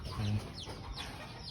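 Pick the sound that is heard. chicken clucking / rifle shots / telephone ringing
chicken clucking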